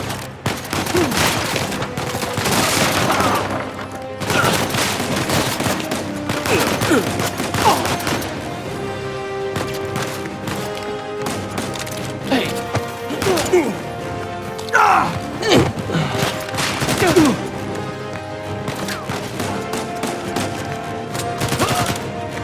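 Rapid bursts of gunfire in the video game Uncharted crackle throughout, volleys of shots mixed with impacts and background music, with voices talking over the action.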